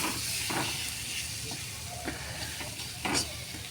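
Boal fish sizzles steadily in a hot pan, a constant broadband frying hiss with a few brief scraping stirs and soft clinks rising over it.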